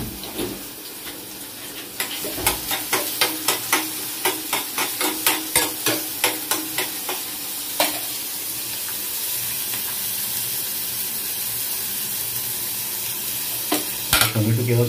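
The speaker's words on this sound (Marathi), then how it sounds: "तर मित्रांनो हे कांदे टाकतोय मी आता." Chopped onions hit hot oil in a pan for an okra curry, bursting into a loud, steady sizzle while a spoon scrapes and stirs in a quick rhythmic run, with no one talking.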